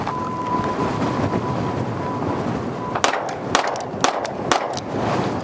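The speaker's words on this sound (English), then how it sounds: "it's super windy." Strong wind roars across the microphone at an outdoor shooting range, a constant loud rush, with several sharp, loud gunshots cracking in quick succession during the second half.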